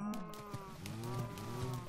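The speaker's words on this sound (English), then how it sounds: "Come on, cows, you can do it." Cows in the video game Minecraft moo in a couple of drawn-out, close, clear calls that overlap one another, heard alone without talk.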